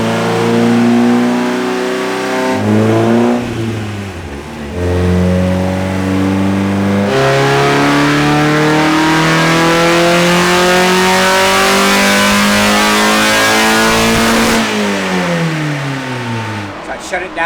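An Exocet race car engine on a dyno revs loudly and close, climbing through several pulls with gear-like shifts in pitch before a final drop as it shuts down.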